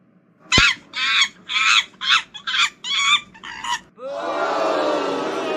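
Roxy, a performer on stage, imitates monkey sounds with her voice: a string of about eight short, loud, hooting calls in quick rhythm, followed by a sustained high shrieking cry.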